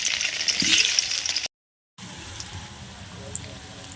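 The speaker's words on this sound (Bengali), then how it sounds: "তেল গরম হয়ে গেছে আলুগুলো ভেজে নেবো আলু আর ওলকপিগুলো ভেজে নেবো" Potatoes and kohlrabi frying in hot oil in a wok give a bright, dense sizzle that cuts out briefly, then returns as a softer, steady crackle.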